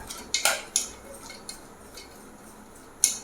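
Banana stem and horse gram stir-fry being mixed in a pan, a few sharp metal spoon clinks and scrapes against the vessel, close and sparse with quiet gaps between strokes.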